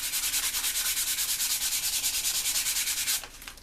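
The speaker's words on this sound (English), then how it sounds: "That's where the sandpaper is handy." Sandpaper scrubs old glue off a table tennis blade in fast, steady back-and-forth strokes, a loud, even rhythmic rasp that stops abruptly near the end.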